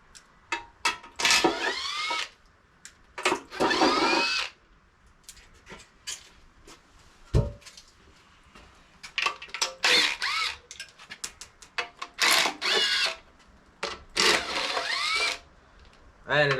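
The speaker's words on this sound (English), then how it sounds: "I have a little snap-on gun here. Just gonna" A small Snap-On power gun runs out engine bolts in repeated short bursts of whirring and ratcheting, separated by pauses, with one louder clunk partway through.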